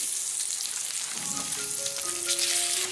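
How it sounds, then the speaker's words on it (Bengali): Chicken pieces hit hot oil in a wok and set off a loud, steady hiss of frying and sizzling close up, with faint scraping as they settle. "আপনারা খুব সাবধানে মাংসগুলো কড়াইতে দেবেন তা না হলে তেল ছিটকে গায়ে লাগলেও লাগতে পারে"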